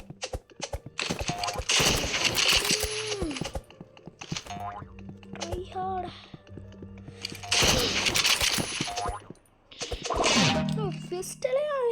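Sniper rifle shots crack in a mobile battle-royale game among music and other game effects, with several loud bursts across the clip and someone talking excitedly throughout.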